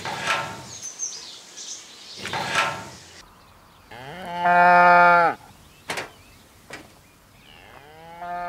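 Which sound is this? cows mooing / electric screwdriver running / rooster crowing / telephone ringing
cows mooing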